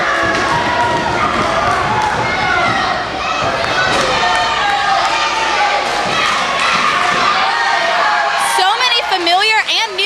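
A crowd of wrestling fans at a CWF Mid-Atlantic show in the Boys and Girls Club of Alamance County erupts in sustained loud cheering and shouting, with thumps from the ring mixed in and a commentator talking over it.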